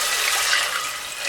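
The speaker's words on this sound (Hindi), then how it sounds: "अब हम इसमें पानी शामिल करते हैं" Water pours steadily into a pot of fried masala for chickpea curry, a continuous bright splashing rush that stays even and fairly close throughout.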